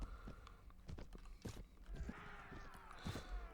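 Horse hooves clip-clopping in Mount and Blade: Warband (Prophesy of Pendor mod), a run of quick, irregular hoof thuds amid clashing battle noise and a brief whinny-like cry, fairly faint overall.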